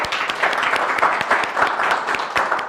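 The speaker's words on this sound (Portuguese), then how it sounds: "uma salva de palmas" Audience clapping at a public-speaking talk, a steady, moderately loud patter of many hands with distinct claps scattered through, without voices over it.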